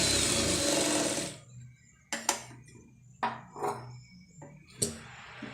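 A sewing machine stitching the lining of a blouse neck design, heard as several short whirring bursts with pauses between, close by and fairly quiet, following a louder stretch of broadband hiss at the start.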